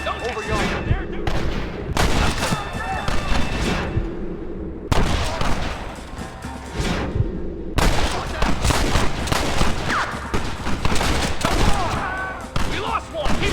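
Shootout gunfire in Red Dead Redemption, with dense volleys of rifle and pistol shots and booms, rapid and overlapping, mixed with game music and shouted voices.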